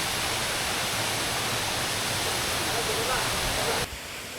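Steady, dense roar of the Saingpra waterfall in Bandarban, a remote jungle falls, heard close and loud as continuous broadband rushing that drops slightly in level near the end.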